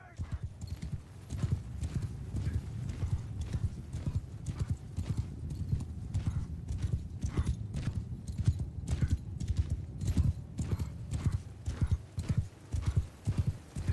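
Horses gallop in the Mount and Blade: Bannerlord video game, a dense stream of hoofbeats clip-clopping throughout, with occasional whinnies and battle noise mixed in.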